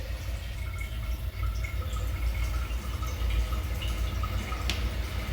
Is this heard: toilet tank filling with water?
yes